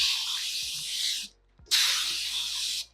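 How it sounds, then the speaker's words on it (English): Two long bursts of pump-spray hiss as starch is sprayed onto fabric, each about a second, separated by a short pause with a faint click, close by with no talking. "I'm gonna spray starch this."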